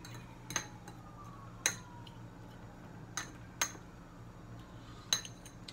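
Utensils clink against a dish while a dipping sauce for raw beef carpaccio is stirred, with five sharp, quiet clicks spaced irregularly over a faint background hum.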